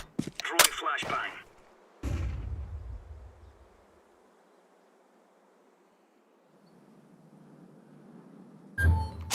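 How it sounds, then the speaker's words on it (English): A flashbang grenade is thrown and goes off in Counter-Strike 2, with quick clattering game sounds followed by a loud, rumbling burst that fades into a long, quiet hiss before another sharp noise at the end. "Throwing flashbang."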